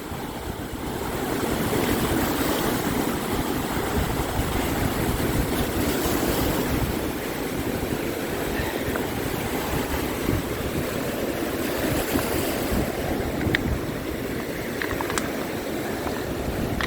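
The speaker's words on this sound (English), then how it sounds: "Lots of big waves." Big ocean waves breaking on a rocky shore of basalt and granite make a continuous loud roar and wash, with gusty wind buffeting the microphone throughout and no voices.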